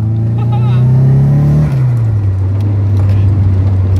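A 1980s or 1990s car accelerates loudly from inside, its engine note climbing and then dropping as the gear changes, before settling into a steady droning hum.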